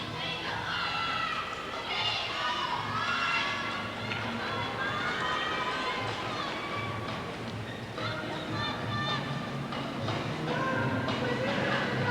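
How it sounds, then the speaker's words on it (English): Crowd at a rhythmic gymnastics hoop final calls out and applauds steadily as a gymnast walks out, a dense, continuous arena roar with scattered shouts throughout. "as she walks out, you can hear the calls and applause from her"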